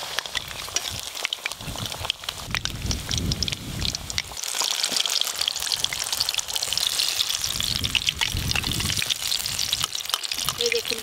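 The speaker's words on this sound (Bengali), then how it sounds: "দেখো, 5 পিস করে ভেজে নেব।" Stuffed teasel gourd pieces fry in hot oil with a loud, crackling hiss that swells and ebbs, growing denser in the second half, and a voice speaks briefly at times under the sizzle.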